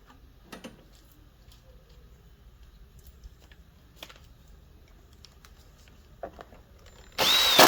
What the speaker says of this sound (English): Now we can replace the starter blower housing cover and retaining screws.